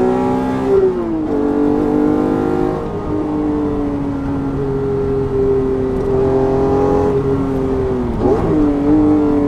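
A car engine revs hard and climbs in pitch, with a sharp harmonic shift as VTEC engages near the top of the range, loud and close throughout.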